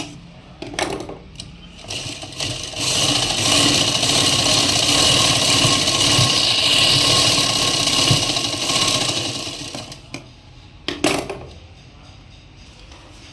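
A sewing machine runs a steady seam around a sleeve cuff, a continuous whirring drone lasting several seconds, bracketed by brief clicks and handling knocks before and after.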